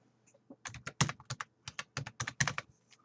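Fast, irregular typing on a computer keyboard, a close run of crisp key taps in bursts over about three seconds with no speech.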